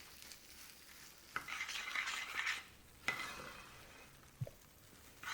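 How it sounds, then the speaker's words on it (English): Almonds are stirred into bubbling toffee candy in a pot on an electric stove, heard as soft, close scraping strokes with a gentle sizzle and a few sharp utensil knocks. "then we're going to add in our almonds and keep stirring"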